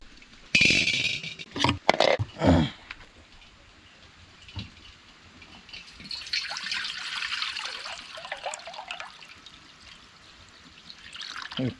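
Rainwater from heavy rain trickles and splashes into a collecting vessel that is nearly full. A few sharp knocks come first, then a soft, steady running patter that stays close and fairly faint.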